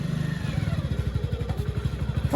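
A motorcycle pulls away as its clutch is let out during a riding lesson, the engine chugging in a steady low pulsing rhythm close by, with no talk over it.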